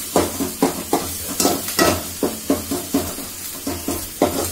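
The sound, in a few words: ginger, garlic and chili paste frying in a pan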